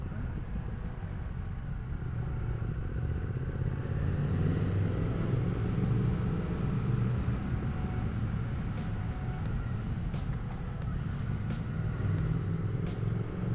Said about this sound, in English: But there's a good chunk of traffic.